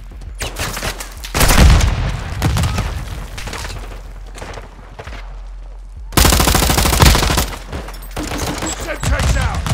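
Dense automatic gunfire and booming shots in a Call of Duty: Modern Warfare II desert firefight, loud and continuous with sharp surges, no speech over it.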